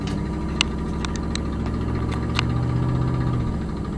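Steady low engine rumble and whir from a car driving through Harlem streets in Manhattan, continuous and close with a few faint clicks, no talking.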